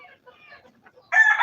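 Local chickens, twelve-week-old birds on a farm, give soft scattered clucks followed by a sudden loud crow-like call at the end.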